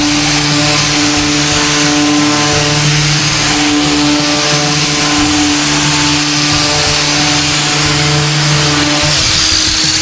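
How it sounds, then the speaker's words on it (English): A power sander smooths primer on an MDF door's detailed profile, giving a continuous, close, humming whine that holds steady for the whole stretch, with no talking. "So now I can take this sander and literally get right into my detail"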